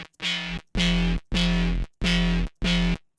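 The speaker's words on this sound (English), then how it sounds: "this is essentially what creates the Haas effect" Five evenly spaced, buzzy, distorted synth notes from a Serum patch with a short stereo Haas-style delay, each held about half a second and cut by brief gaps, loud and dry with no other sound.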